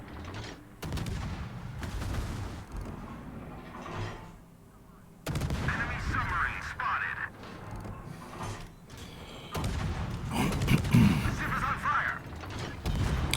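Naval gunfire in World of Warships as the Hayata is targeted, with repeated loud booming salvos and mechanical clatter spread through the clip, mixed with other battle noise.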